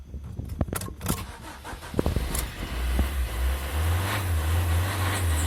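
A Lancia Ypsilon engine starts: a few clicks and a short cranking, then the motor catches and settles into a steady low idle that grows a little louder, close by in the cabin.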